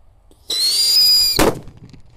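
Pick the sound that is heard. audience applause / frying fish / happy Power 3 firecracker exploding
happy Power 3 firecracker exploding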